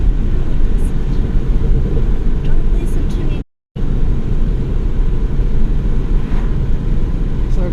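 Engine and road noise of a 2016 Holden Commodore VFII SS-V while driving and shifting up through the gears, a steady loud cabin drone broken by a brief dropout.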